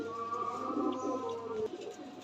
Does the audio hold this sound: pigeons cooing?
yes